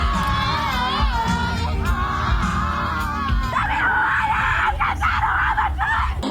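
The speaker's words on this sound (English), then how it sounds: "the screams in this one are not as loud as the other ones" A concert crowd screams and yells without a break, loud and dense, with high shrill voices rising over the constant roar of the audience throughout.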